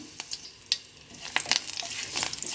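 Mustard seeds sputter and pop in hot melted ghee during a Kannada-style tempering for omakalu tili saru, scattered crackles growing denser and busier toward the end, close and moderately loud with no voices.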